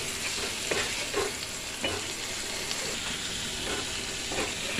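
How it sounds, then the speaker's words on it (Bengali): Ginger, onion, garlic, salt, turmeric and cumin paste sautéing in a hot pan, with a steady close sizzle and hiss broken by occasional scraping stirs, no voices. "ভালো করে কষিয়ে নিচ্ছি।"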